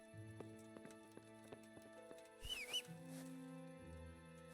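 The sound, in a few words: horse hooves clip-clopping in a video game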